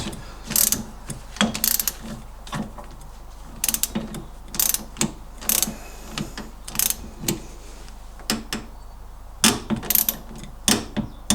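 A ratchet tightening the shock absorber pinch bolt on an MGB suspension to 28 foot-pounds, sharp clicking strokes repeated in quick bursts, close and loud with brief pauses between.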